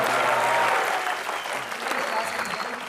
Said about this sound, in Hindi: एक बार धर्मबाजी के लिए, गिप्पी के लिए जोरदार तालियां।